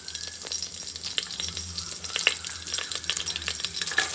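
Cinnamon and cloves fry in hot oil with a steady, close sizzle full of small crackles and pops and occasional stirring scrapes, continuing evenly throughout.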